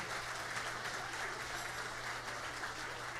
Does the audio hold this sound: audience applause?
yes